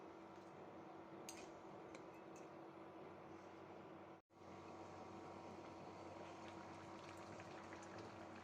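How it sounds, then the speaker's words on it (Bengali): A covered pot of Bengali muri ghonto simmers on the stove, giving a steady, even bubbling hiss throughout. The sound drops out briefly at mid-point, then resumes unchanged, with no talking. "ঢাকা দিয়ে ডেকে পাঁচ মিনিটের মতো রান্না করলাম"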